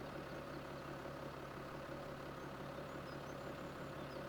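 Tractor engine idling in Farming Simulator 17, a steady low rumble holding at an even pitch throughout, moderately quiet with no talk over it.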